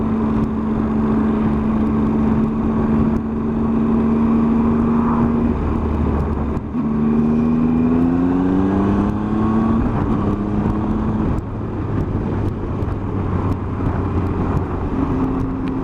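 A 2018 Triumph Tiger 800 XRT motorcycle engine on a test ride accelerates through rising revs, with pitch climbing, dropping at gear changes and climbing again over steady wind noise, loud and close throughout.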